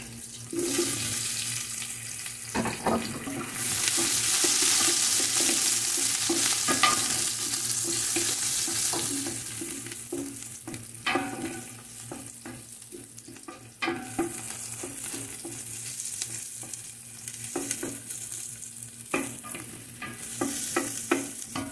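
Crushed garlic frying in a pan for a goat trotter tamarind stew gives a close, steady sizzle, punctuated by scrapes and clinks of stirring, with a louder hissing surge early on.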